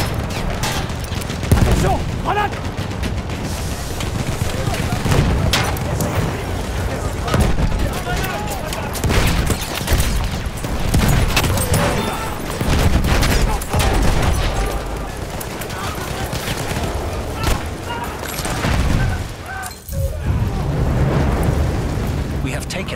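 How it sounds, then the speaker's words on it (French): Battlefield 1 Shock Operations battle at Tahure, with grenade blasts and explosions amid near-continuous loud gunfire and combat din, layered under in-game shouting voices for the whole stretch. "Lance une grenade!"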